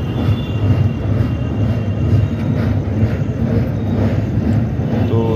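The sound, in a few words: inside a moving passenger train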